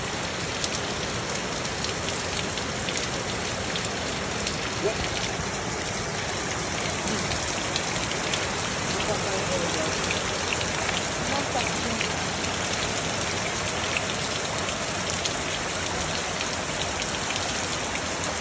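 Steady rain pours down continuously, a dense hiss of drops striking surfaces close by, unbroken from start to finish.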